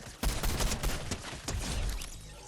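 Gunfire in Fortnite Chapter 3 Season 4 crackles in a rapid burst of several close shots, then a second volley follows after a short gap.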